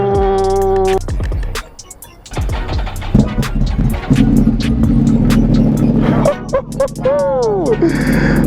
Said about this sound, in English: you know it's time for my favorite part of the day, the cold start, baby